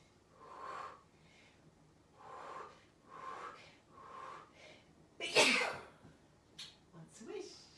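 A single loud, sharp sneeze bursts out midway, set among softer breathy exhalations and faint vocal sounds before and after it.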